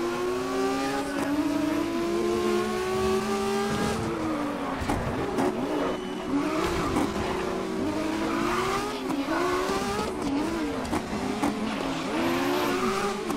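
Race car engines in the video game GRID rev and shift loudly throughout, their pitch repeatedly rising and dropping, mixed with tire squeal and skidding during close racing.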